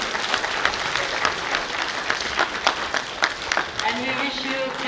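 Students in a lecture hall give sustained applause after a talk, a dense, steady wash of many hands clapping that carries on throughout, with faint voices beneath.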